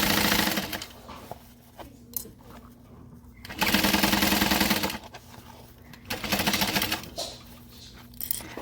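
A sewing machine stitches around a curved seam at a 3/8 inch seam allowance, running in several bursts of rapid whirring separated by brief pauses, close and clear.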